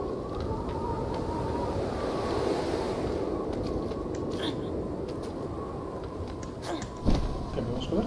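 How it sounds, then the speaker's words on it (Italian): Steady wind roars through the open landscape of the video game Prey for the Gods, a constant low rushing wash lasting throughout, with a few faint clicks and a brief thump near the end. "Ma perché c'ho sempre il vento contrario a prescindere da dove vado?"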